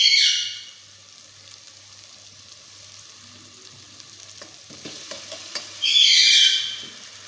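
Potatoes drop into a hot pot for tahari and fry: loud bursts of sizzling open and close the stretch, with quieter crackling and a few stirring knocks in between.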